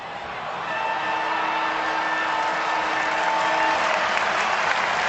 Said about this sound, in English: So the St Kilda crowd rise in unison and clap